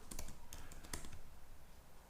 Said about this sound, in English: let's open this up, type in our password